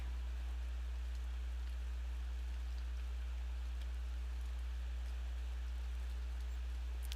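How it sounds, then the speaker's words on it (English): Steady pink rain falling in the video game A Hint of Tint, a constant even hiss of drops over a low drone, with no talk and no change in level throughout. "You trying to tell us that this pink rain is about to turn blue?"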